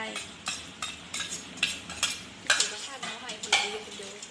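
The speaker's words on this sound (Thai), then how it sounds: "คนให้เข้ากัน" Curry paste is stirred into coconut milk in a pot, a utensil scraping and clinking in quick repeated strokes over a low bubbling sizzle.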